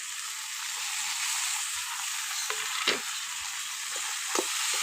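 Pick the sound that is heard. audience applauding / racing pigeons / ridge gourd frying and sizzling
ridge gourd frying and sizzling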